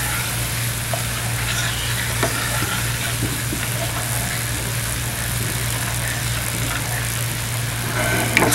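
Cheesesteak filling seasoned with cayenne sizzles steadily in a hot pan, with soft scraping stirs over a constant low hum in the kitchen.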